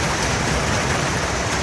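Heavy rain pounds and splashes off a road outdoors as a dense, steady hiss, loud and continuous with no pauses.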